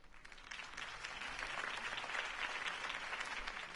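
Crowd applause in the video game Telltale's Batman, a dense, steady clapping that swells and holds for several seconds, with no talking over it.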